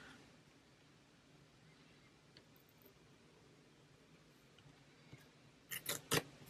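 A small pair of scissors snips a few quick times near the end, crisp little cuts following a long stretch of faint room hiss.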